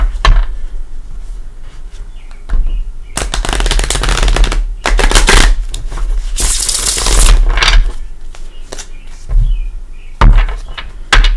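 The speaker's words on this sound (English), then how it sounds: "Let's give it another shuffle" Gilded Tarot cards riffle and shuffle in several loud, crackling bursts, separated by quieter pauses and light handling noises.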